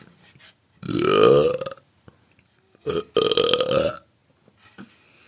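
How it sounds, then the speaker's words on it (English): A girl lets out two loud, drawn-out burps separated by a short pause, each a croaky rising belch standing alone with no talk over it. "Why is this girl burping like this?"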